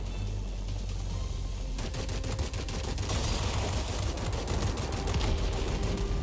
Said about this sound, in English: put some cheeky shots in that boomerang, get that kill